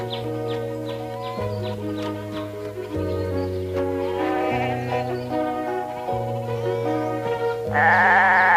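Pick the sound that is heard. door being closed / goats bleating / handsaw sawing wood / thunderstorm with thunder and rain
goats bleating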